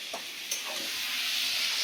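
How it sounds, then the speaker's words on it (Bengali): Large prawns frying in a pan make a soft, steady sizzle close by, with a couple of light stirring clicks over the continuous hiss. "চিংড়িগুলো আমার কেমন লাল লাল করে ভাজা হয়ে গেছে"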